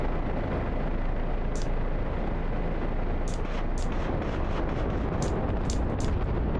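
Helicopter rockets firing in a combat flight game, a steady loud roar with several sharp bright bursts spaced irregularly across the stretch, no one talking.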